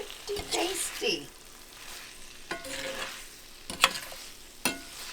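Chili beef noodles being stirred together in a single pot, with a few soft scraping and clinking stirs and faint sizzling spread out between quieter pauses, close by.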